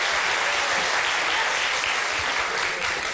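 Studio audience applause on a late-night talk show, steady dense clapping filling the whole moment without talk.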